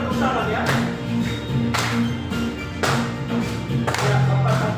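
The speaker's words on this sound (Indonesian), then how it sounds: "Boleh tepuk tangan ya." Hand claps at a slow, even beat, roughly one per second, alongside a classroom song with sustained tones underneath.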